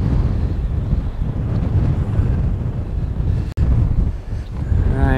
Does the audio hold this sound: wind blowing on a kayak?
yes